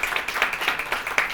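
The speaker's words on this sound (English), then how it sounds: "I would ask the students in the room to give their family and loved ones a round of applause." A room of people claps at a college program recognition celebration, with distinct hand claps merging into light, moderately close applause for a brief moment.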